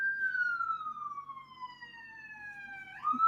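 A single siren wails in a long, slowly falling tone, then rises again, moderately distant, with no talking.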